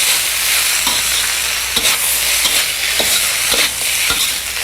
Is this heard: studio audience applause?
no